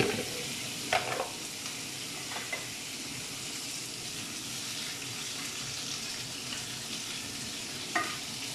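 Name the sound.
frozen vegetables frying in a pan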